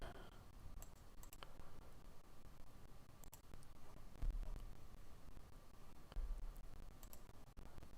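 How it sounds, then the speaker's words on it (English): A computer mouse clicks in scattered sharp taps, single and in quick pairs, while someone works in OBS streaming software, quiet and close against a low background hiss. "Clicking on things in OBS, trying to figure out what the deal is."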